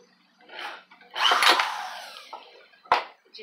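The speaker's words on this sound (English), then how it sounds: "This new drill also does not have any torque control" A cordless drill without torque control whirs in short bursts driving into scrap wood, with a longer sustained grinding run in the middle and a brief final spurt, close up.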